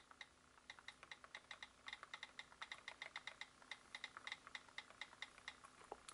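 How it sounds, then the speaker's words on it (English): Fingertips tap on an iPad mini on-screen keyboard, producing quick, light clicking keystrokes in an uneven typing rhythm, faint and close with a soft steady hum beneath and no voices. "So again, it's very easy to type on the keyboard."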